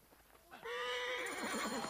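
A horse whinnies loudly in Assassin's Creed Origins, a rising then wavering neigh that starts after a brief quiet moment and carries on to the end with no speech.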